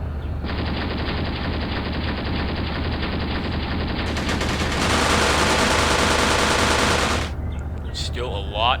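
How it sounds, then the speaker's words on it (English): Sustained machine gun fire from the Graviteam Tactics wargame, a dense continuous rattle of overlapping bursts that grows louder and heavier midway before easing off near the end. "Still a lot of response from the enemy, a lot of gunfire there"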